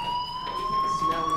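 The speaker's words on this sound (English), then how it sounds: "Hey, do you hear that fire alarm?" A fire alarm sounding in the video game Life is Strange, a loud steady electronic tone with bright sustained harmonics, with someone talking underneath.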